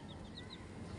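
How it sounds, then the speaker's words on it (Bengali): Chickens clucking softly on a rooftop in the early morning, with a few short, high chirps over a steady low background hum; brief and fairly faint, with no talking. "আরে কয়টা মুরগি?"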